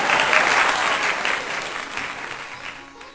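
An audience at a Hindi poetry recitation program claps loudly and continuously, with dense applause that fades slightly toward the end.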